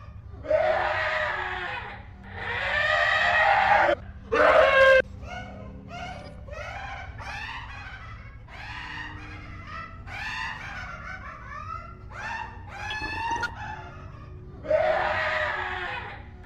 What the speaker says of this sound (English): it twists into something much darker, rising into screams and a deep, guttural roar